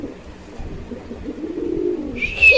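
A male pigeon coos in low, soft rolling calls while eager for a mate, close by and fairly quiet, with a brief higher chirp near the end.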